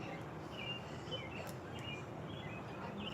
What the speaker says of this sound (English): You hear the birds?